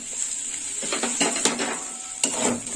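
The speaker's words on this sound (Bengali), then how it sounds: "হলুদটা তো ভালো করে তেলের মশলার মধ্যে ভাজা হয়ে যাবে।" Turmeric and chopped tomato fry in hot oil with spices for a Bengali curry, giving a steady close sizzle broken by a few scraping stirs and clinks of a spoon against the pan.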